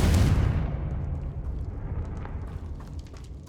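A Confringo fire spell explodes in the Hogwarts Legacy video game: one loud, deep blast that starts at full force and rumbles away over a few seconds, with no voices.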